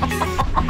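A village chicken in Uralsk, Kazakhstan, clucks in a quick run of four or five short, close, fairly loud calls.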